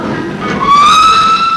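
A train departing York station toward Sheffield sounds a single clear whistle that rises and holds over low rumble, fairly loud and close.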